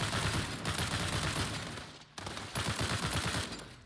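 Rapid sustained bursts of SCAR-H rifle fire in the shooter World War 3, loud and close, with a brief pause midway before firing resumes.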